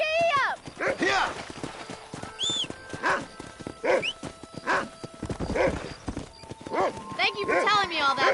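Horse hooves clip-clopping at a steady ride in a video game about cattle herding, a rhythmic run of hoof beats with occasional whinnies, under almost continuous talking voices.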